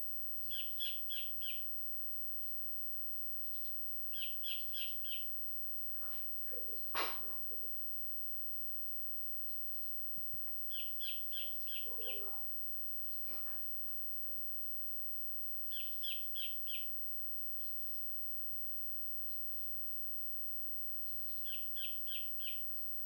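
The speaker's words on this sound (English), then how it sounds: "I hear the birds singing, hear everything else" Outdoor birdsong: a small bird repeats short bursts of high, rapid chirping trills at regular intervals, with a few other calls between, faint and somewhat distant over quiet background.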